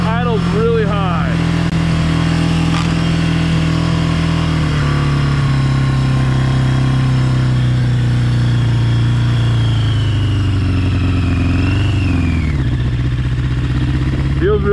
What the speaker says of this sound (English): So the starter was wonky on this, but starts right up, but the idle's really high.